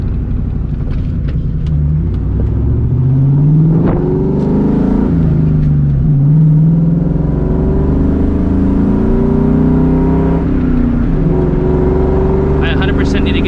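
A 2004 Ford Mustang GT engine drones loudly from inside the car while driving, its pitch rising and falling through gear changes and throttle shifts as a steady, close rumble over road noise.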